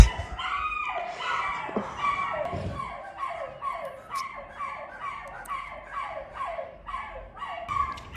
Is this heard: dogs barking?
yes